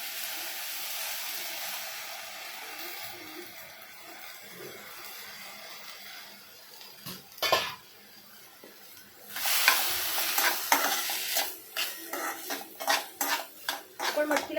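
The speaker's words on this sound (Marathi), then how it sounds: "आता इथे आपण मटकी पण भाजून घेणार आहोत" Moth beans (matki) dry-roast in a pan with a faint background hiss at first, then a spatula scrapes and stirs them with loud clattering and scraping strokes against the metal.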